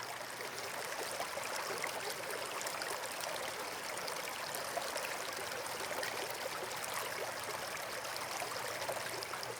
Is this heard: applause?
no